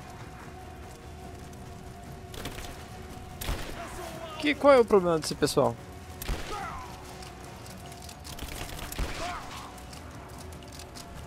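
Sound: gunfire in video game Rise of the Tomb Raider

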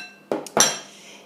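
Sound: spoon mixing potato flesh with cream cheese in bowl

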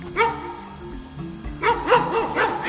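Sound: dog barking

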